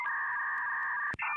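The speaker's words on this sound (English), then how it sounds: "it's a modem connecting to the internet." A 56K dial-up modem connecting to the internet holds a steady, piercing dual-tone handshake, then a short click and a shift to new tones, heard alone.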